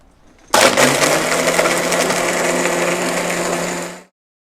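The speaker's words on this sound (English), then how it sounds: "And we are ready to pop this in the blender." Ice being crushed in a blender for a roasted almond cold brew frappe: a sudden loud start, then a steady, dense grinding roar for about three and a half seconds before stopping abruptly, with no talking.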